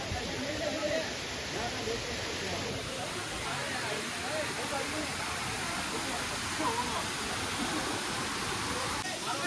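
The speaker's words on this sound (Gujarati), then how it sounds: "મસ્ત ઝરણું વહે છે." A stream flows on Girnar mountain near Junagadh, Gujarat, its water rushing in a steady, close, continuous hiss that never lets up.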